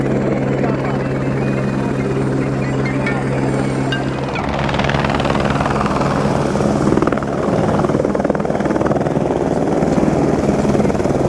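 Helicopter landing at a mountain helipad on the Amarnath Yatra route between Panjtarni and Baltal, its rotor and engine roar loud and steady throughout with no talk.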